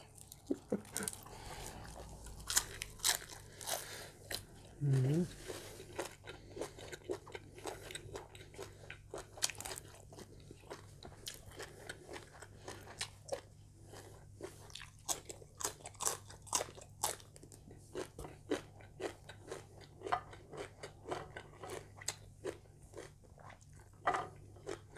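Someone chews large tako octopus close to the mic, with wet, rubbery bites and repeated crunchy, squishy chewing in an irregular rhythm, and a brief vocal sound near the start.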